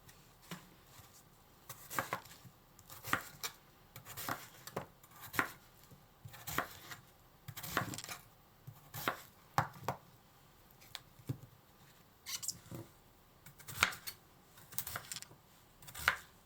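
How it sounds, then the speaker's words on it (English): A knife chops daikon radish into rough chunks for a Japanese buri daikon dish, with a steady run of sharp, close board strikes in irregular bursts across the whole stretch and no talk. "cut the daikon radish into rough chunks"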